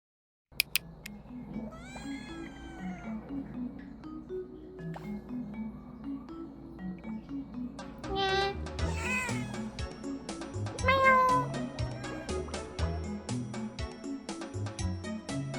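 A cat in a neck cone after neutering surgery meows repeatedly, several drawn-out cries close to the microphone over a steady low background hum, growing louder and more insistent toward the end.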